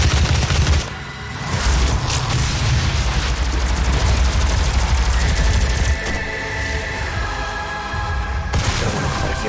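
Rapid, sustained bursts of gunfire and explosions from the DOOM video game, loud and dense throughout, with a short lull near the start before the shooting resumes.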